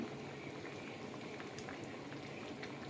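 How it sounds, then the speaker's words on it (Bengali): Ridge gourd ros bora fritters simmering in a vegetarian curry with green chillies and chopped coriander, giving a steady soft bubbling and gentle popping throughout, close and fairly quiet with no voices. "বড়াগুলো দিয়ে একটু ফুটিয়ে নেবো ভালো করে।"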